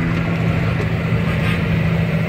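A tractor engine drones steadily and loudly while disking a field after snapping, close up and continuous with no talk.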